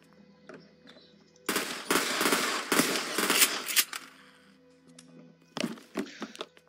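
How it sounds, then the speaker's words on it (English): Burst-fire gun shooting in the video game The Last Stand: Union City, a loud dense run of rapid shots for about two and a half seconds, then a shorter second burst near the end. "Reload the gun. So it's burst fire."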